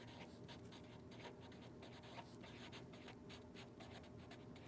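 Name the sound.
writing on a surface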